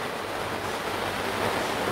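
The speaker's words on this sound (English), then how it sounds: "It's pouring down at the moment" Heavy rain pours onto a garden gazebo roof as a dense, continuous hiss, steady and fairly close, with no voices.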